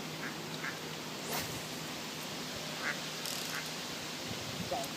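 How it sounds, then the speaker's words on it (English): Scattered duck quacks sound at a distance across a weedy fishing pool over steady outdoor background noise, a few brief calls spread across the stretch. "Plus I have a load of ducks over there,"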